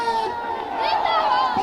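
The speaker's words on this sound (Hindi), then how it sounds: "यहां भीड़ काफी हो गई।" Dense crowd at a farmers' mahapanchayat, a loud, close mix of overlapping voices and general babble that carries on steadily.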